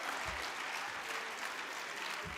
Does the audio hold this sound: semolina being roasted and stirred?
no